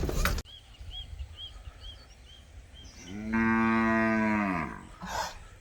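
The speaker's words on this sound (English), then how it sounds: "That's the one calling the shots now. See, calling the other cows to come to drink." On a farm, a cow gives one long, loud, close moo, calling the herd to drink, while faint birdsong and soft outdoor ambience sit around it and a brief thump comes at the start.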